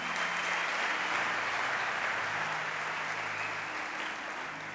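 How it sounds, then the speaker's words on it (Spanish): A church congregation claps together in sustained, even applause that fills the room and fades slightly toward the end, with no voices standing out. "Hay que darle un aplauso al Señor esta mañana"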